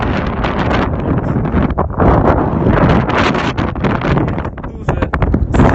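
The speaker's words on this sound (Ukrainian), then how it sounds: "Дуже сильний вітер буде." Strong gusting wind on Mount Hoverla roars and buffets the microphone in dense, continuous broadband rushes with brief lulls, loud and close throughout.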